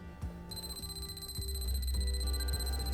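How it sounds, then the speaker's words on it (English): A handheld voltage detector near AC wires running to the roof of an old house gives off a steady, high electronic alarm tone. The tone is continuous and close, with faint handling knocks and low rumble beneath. "we've got an alarm, and that's showing us that we're near AC power"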